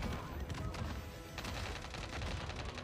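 Rapid bursts of gunfire from the video game Modern Warfare 3, steady and dense across the whole stretch over a constant background of game noise, with no talk.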